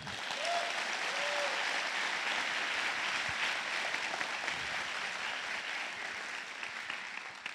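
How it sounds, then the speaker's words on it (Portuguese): An audience at a UX writing panel applauds steadily for several seconds, a fairly even wash of clapping that thins slightly toward the end. "Palmas!"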